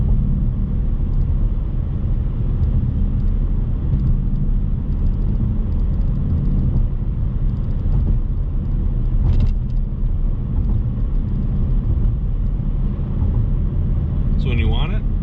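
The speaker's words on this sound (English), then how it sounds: "I mean, you can still hear it. I mean, it's still popping back there." A 2020 Ford Mustang Bullitt's exhaust rumbles steadily from inside the moving car, a constant low drone with road noise and occasional faint pops, while a person talks over it.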